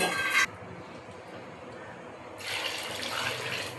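Water pours briefly from a tap into a cooking pot in a home kitchen, a short splashing burst followed by a quiet pause, then a second softer stretch of running water.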